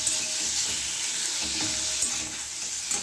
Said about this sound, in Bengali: এবার একটু নেড়ে নিলাম, খালি জাস্ট একটু নেড়ে নেব